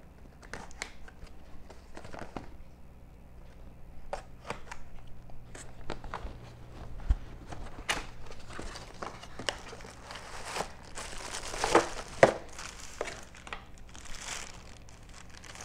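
Cardboard box of silicone heat-resistant gloves being opened, with tape pulled and peeled among soft crinkling, scraping and tearing noises, close and fairly quiet.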